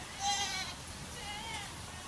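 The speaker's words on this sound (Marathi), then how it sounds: "अरे बघ तर बोकड्या काय झालंय वरडाय." A billy goat in a village bleats once, a short nasal cry near the start, fairly close, followed by quiet background.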